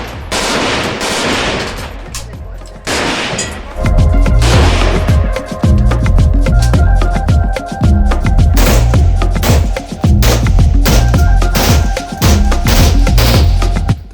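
Rapid gunfire at the Cu Chi Tunnels shooting range in Vietnam, with bursts of loud shots and heavy booms that pile up close together and keep going through the whole stretch.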